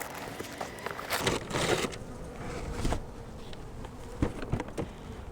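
Honey bees swarm around an opened hive, buzzing steadily and close, with scattered louder bursts and light tapping and handling sounds from the hive.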